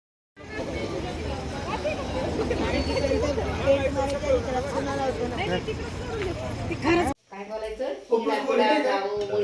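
Busy Satkar hotel restaurant full of diners, a steady dense babble of overlapping voices and clatter that cuts off abruptly, then picks back up briefly.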